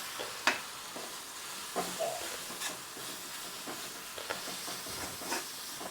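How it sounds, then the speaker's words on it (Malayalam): Fish head curry stirred in a pan over heat, a soft continuous sizzle broken by a few sharp scrapes and clicks of the spoon against the pan, fairly quiet and close, with no talking. "അതിട്ട് നന്നായിട്ടൊന്ന് ഇളക്കാം"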